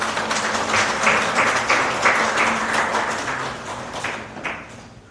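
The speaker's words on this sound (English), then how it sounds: "Can we have a round of applause to invite Dr. Arsalan Mozaffari Falarti to the stage" An audience at a birthday celebration for Sri Ramakrishna claps to welcome a guest speaker to the stage. The applause is close and fairly loud, a dense patter of many hands with some individual claps standing out, easing off toward the end.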